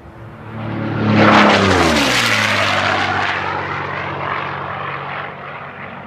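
An unlimited class racing airplane flown by an ag pilot from Syracuse, Kansas roars past during the Silver race at the National Championship Air Races, a loud propeller engine swelling as it nears and sliding down in pitch as it recedes.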